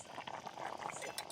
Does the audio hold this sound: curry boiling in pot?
yes